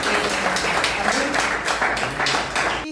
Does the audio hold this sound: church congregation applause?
yes